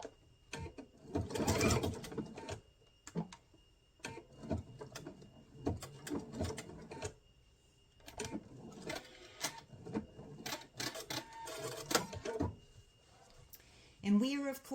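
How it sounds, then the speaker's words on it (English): A sewing machine stitches along the edge of a fabric box in short bursts with pauses, close by, with a voice speaking intermittently between the runs. "I'll sew this to the end, and then I'm going to reinforce this edge as well"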